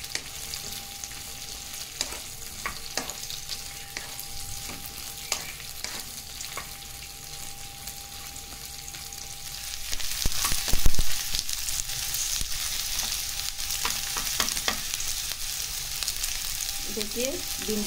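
Cut okra sautés in a pan, sizzling and frying steadily with scattered stirring clatters, growing a little louder partway through.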